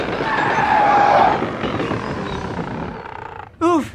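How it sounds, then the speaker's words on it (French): Old locomotive brakes in an animated cartoon screech with a long grinding hiss and a sustained whine. The noise fades away, and a short high-pitched cry follows near the end. "Je vais serrer le frein."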